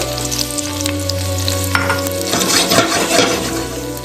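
Olive oil and butter sizzle steadily in a hot Dutch oven, a dense frying hiss with light stirring scrapes near the middle and a low steady hum underneath, no voices.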